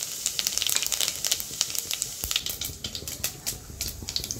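Cumin seeds crackle and sizzle in hot oil as a tempering for tomato soup, a steady close-up spitting with rapid irregular pops and no talk.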